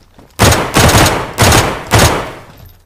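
Rapid gunfire in the survival video game DayZ, four loud, sharp shots in quick, uneven succession, close and punchy, with no voices over them.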